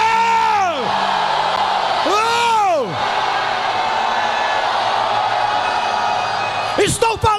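A church congregation at a Sunday evening service lets out loud, sustained shouts in two long swells, followed by a quieter roomy murmur and a final burst of cheering, full and close in a reverberant hall.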